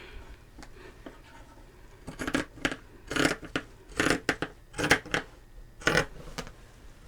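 Scissors cutting through blouse fabric make a series of close, crisp snipping bursts in an uneven rhythm after a quiet start, with no talking.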